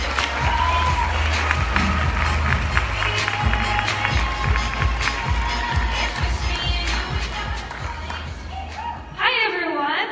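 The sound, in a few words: conference audience applauding and cheering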